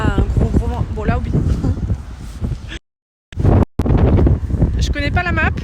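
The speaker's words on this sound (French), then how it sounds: "Alors il y a beaucoup de vent." Strong outdoor wind buffets a microphone in rural Ireland, a loud rumbling roar under near-constant talking by a man, with a brief dropout midway.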